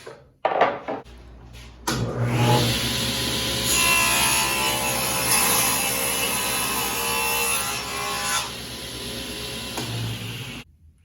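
A saw cuts steadily through wood pieces for folding dog steps, a few sharp knocks and then a sustained rasping stroke that runs for about nine seconds before stopping, close and loud.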